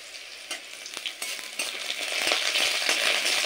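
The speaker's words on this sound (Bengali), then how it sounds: "তো রসুন আর শুকনো লঙ্কা আমি ফোড়নটা লাল করে ভেজে নেব।" Garlic and dried red chilies fry in hot oil as a tempering for dal with greens, a close bubbling sizzle that grows louder and denser, with sharp crackles and scraping stirs throughout.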